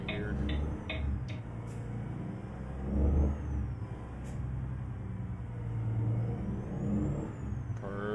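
In American Truck Simulator, a 2022 Volvo VNR truck engine hums at a moderate, steady drone with gentle swells as it pulls along, while a repeated ticking of a turn signal sounds in the cab.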